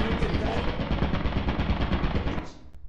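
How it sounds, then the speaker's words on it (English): A turret in Lethal Company fires from another room in a rapid, sustained burst of machine-gun shots, loud and dense for over two seconds before cutting off abruptly, with no talk. "Turret, in the other room, turret."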